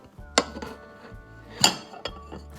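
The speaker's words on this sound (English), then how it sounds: "I'm just going to sit this plate on top of the bowl" A few ceramic clinks and knocks as a small plate is set down on top of a bowl as a microwave cover, with short ringing tones between quiet pauses.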